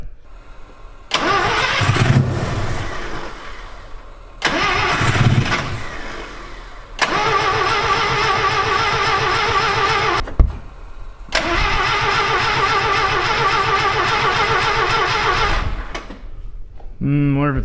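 A Mazda rotary-engine pickup truck, fitted with a Holley carburetor, cranks in several short bursts, then catches and runs at a loud, steady idle with a brief sputter before settling.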